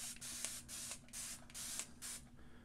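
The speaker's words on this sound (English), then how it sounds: "Let me just spray down the face." A series of quick spray-bottle squirts of water onto a face before a straight-razor shave, about six short hissing bursts in a steady rhythm, close and fairly quiet.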